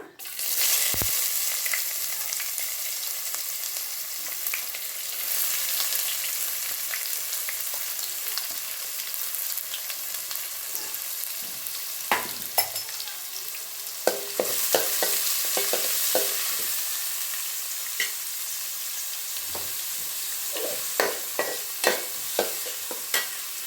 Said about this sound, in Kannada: ಈರುಳ್ಳಿ ಬಣ್ಣ ಚೇಂಜ್ ಆಗೋ ತನಕ ಒಂದು ಸ್ವಲ್ಪ ಈರುಳ್ಳಿನ ಫ್ರೈ ಮಾಡೋಣ